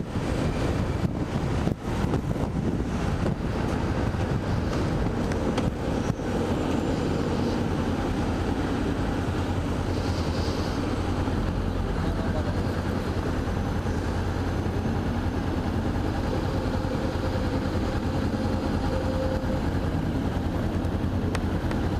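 A Honda CB 500X motorcycle rides through downtown Rio de Janeiro traffic, its engine a steady close drone beneath heavy wind buffeting and the surrounding rumble of city vehicles, with no voices.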